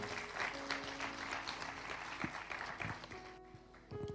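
A church congregation claps loudly and steadily throughout, with the applause fading slightly toward the end.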